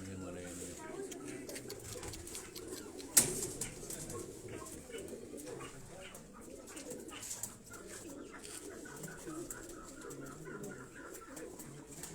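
Pigeons cooing softly in the background at a loft, low and faint throughout, with a sharp knock partway and people talking nearby.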